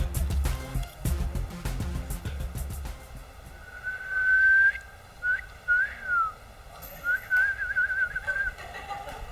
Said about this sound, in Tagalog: Hop, sumipol!